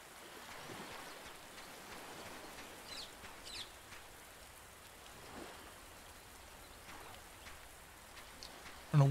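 Steady rain in the tropical island survival game Under A New Sun, a soft, even patter of drops at low level with no one speaking.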